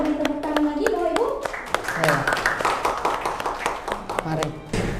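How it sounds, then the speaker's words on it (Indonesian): Audience at an Indonesian health talk event applauding, a short burst of scattered clapping mixed with a voice speaking over it, close and moderately loud. "Kita beri tepuk tangan lagi Bapak Ibu."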